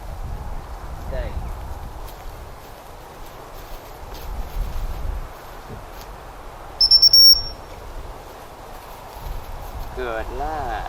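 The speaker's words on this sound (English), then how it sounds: "understands what the recall whistle means" A short, sharp blast of a gundog recall whistle rings out at a distance, with quiet outdoor ambience and faint rustling around it.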